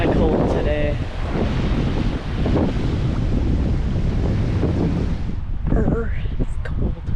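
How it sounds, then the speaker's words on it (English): Strong wind buffets the microphone on a beach, a loud roaring rush with gusting swells and surf mixed in, while voices are faintly audible beneath it. "It is really windy and kind of cold today."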